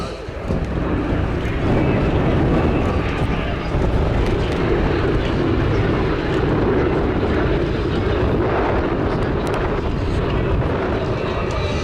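The B-17 bomber Sally B flies at the Little Gransden airshow, a continuous loud piston-engine roar with a heavy low rumble and wind buffeting that holds steady throughout.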